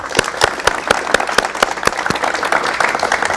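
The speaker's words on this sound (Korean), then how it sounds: "박수로 맞이해 주십시오" A studio audience applauds to welcome a guest musician onto a 1984 Korean television talk show, with dense, lively clapping that carries sharp individual claps and holds steady throughout.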